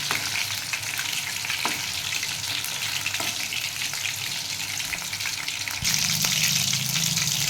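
Green chicken frying in a pan with oil, a continuous loud sizzle and bubbling with occasional stirring clinks, steady throughout and growing slightly fuller near the end.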